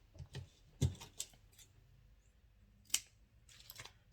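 Scissors snip through fabric for a sewing project, a few sharp separate cuts spaced apart in an otherwise quiet room, close and fairly soft.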